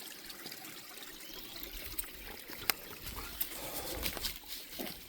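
A creek trickles quietly beside fallen logs in woodland, a faint continuous babble of running water with small splashes and drips scattered throughout, no voices.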